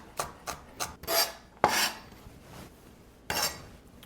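A knife dices onion on a cutting board in a home kitchen, giving soft, irregular chopping taps and scraping strokes, fairly quiet and close, with no talking.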